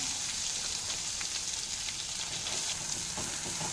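Mint paste sizzling as it hits a hot tempering in a pan for pudina chutney, a steady close hiss of frying oil running throughout with faint crackles and no talking.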